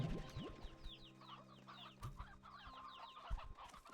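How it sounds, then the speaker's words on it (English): Chickens cluck in the video game Slime Rancher 2, a busy overlapping flock of short clucks and squawks over steady background music, with a few thumps. "That's why I keep finding chickens all over the place."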